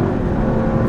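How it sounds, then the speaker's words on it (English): A 2024 Lexus GX 550 accelerating in normal mode gives a steady, loud engine drone from inside the cabin, holding a constant low rumble for about a second with no speech. "This is just an acceleration in the normal mode."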